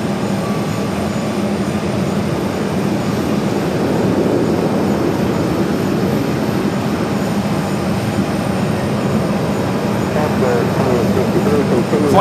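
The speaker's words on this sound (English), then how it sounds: "This is Southwest Airlines 2863 coming in from Denver, Colorado on the" Southwest Airlines Boeing 737-800 arriving from Denver at Phoenix airport, a continuous jet rumble and whine that swells slightly midway, heard from a distance without talk over it.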